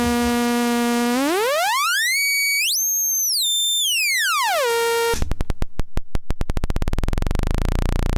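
A buzzy sawtooth tone from a Feedback Modules TWO59 synthesizer oscillator glides up and back down in pitch, then turns into a rapid, rough pulsing buzz that speeds up, loud and alone.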